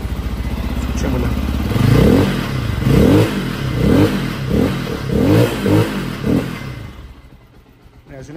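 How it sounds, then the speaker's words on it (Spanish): A carbureted motorcycle engine with a damaged motor is revved repeatedly from idle, about seven rising throttle blips in a regular rhythm, loud and close, before dropping back and quieting. "aquí la prendemos, ahí está en ralenti y vamos a acelerarle un poquitico"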